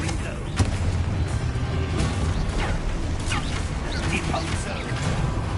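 Confringo fire spells blasting in Hogwarts Legacy combat, with repeated booming impacts and crackling bursts over a dense, continuous wash of battle noise.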